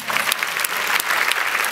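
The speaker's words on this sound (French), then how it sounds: "Catherine Fro, on peut applaudir" An audience at a festival event in Cannes bursts into dense, continuous applause, with many hands clapping close together and loudly.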